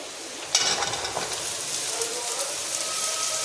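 Potatoes and carrots drop into a hot pan of lightly browned onions and spices, bursting into a loud, steady sizzle of frying that continues close up without talk.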